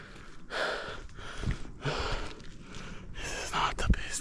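A hiker breathes heavily while climbing a steep uphill trail, loud rhythmic gasping inhales and exhales close to the microphone.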